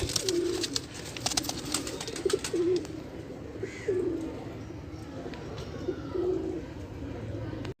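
Pigeons coo repeatedly at a Sunday bird market in Multan. Several soft, rolling coos sit in a busy open-air bed of chatter and scattered chirps, fairly close and clear.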